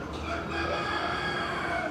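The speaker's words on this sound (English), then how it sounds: "And that rooster." A rooster crows in a drawn-out call across a busy outdoor farmyard background with sheep nearby, in the Costa Rican cloud forest near Puntarenas.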